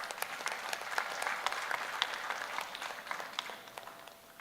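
Audience in an auditorium clapping for the Vice Chancellor at a science congress valedictory session, a fairly quiet, steady round of applause with a few sharper claps standing out.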